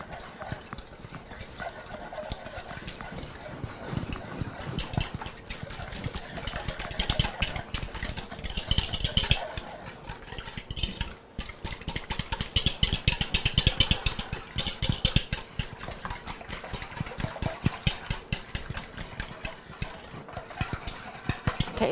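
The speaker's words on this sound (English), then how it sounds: "I'm going to use my whisk and whisk these all together" A whisk beats yogurt cake batter in a kitchen bowl, giving a continuous run of quick, scraping clicks against the bowl that goes on for over twenty seconds and rises and falls in intensity.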